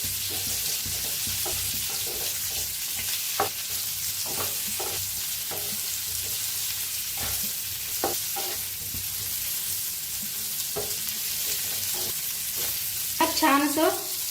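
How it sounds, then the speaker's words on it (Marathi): Pieces of bitter gourd (karela) sizzle steadily in hot oil, a close, continuous frying hiss broken by scraping stirs of a spoon in the pan. "कारली सोडून घेऊया तेलात."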